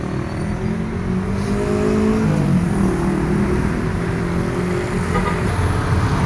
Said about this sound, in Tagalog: Traditional jeepney pa rin.